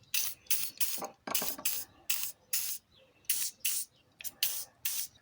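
WD-40 hisses from a spray can onto the power window regulator mechanism of an Alfa Romeo Spider or Brera (939), in about a dozen short, sharp close bursts.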